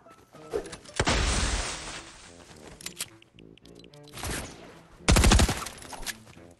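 Gunfire in Fortnite: bursts of loud rapid shots, a long volley early on, then shorter clusters and a sharp final burst, with quieter game sounds in between.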